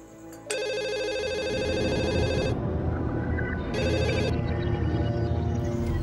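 A telephone bell rings loudly in two long bursts, separated by a short gap, over a continuous murmur of background noise.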